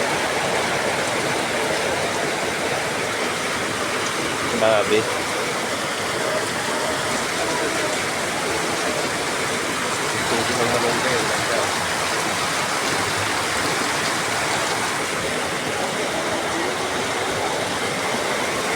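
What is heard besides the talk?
heavy rain falling on metal roof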